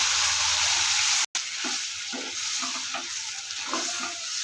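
Leafy greens with garlic paste sizzle and crackle in a frying pan, a steady bright hiss broken by a brief dropout, with occasional stirring scrapes.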